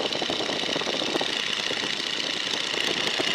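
The engine of a 1942 Boeing Stearman biplane drones steadily in flight, a loud, continuous, even rumble with no voices over it.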